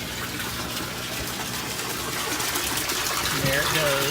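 Nutrient-rich water from an aquaponics mineralization tank pours back into the sump, a steady close gush that grows slightly louder near the end, with a voice talking over it.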